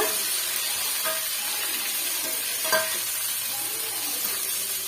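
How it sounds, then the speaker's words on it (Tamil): Upma ingredients with green chilli and garlic sauté in a hot pan, giving a steady, close frying sizzle broken by a few soft scrapes and clinks of a stirring spoon, with no voices. "இப்போ நம்ம நல்லா வந்து வதக்கி விட்டுக்கலாங்க"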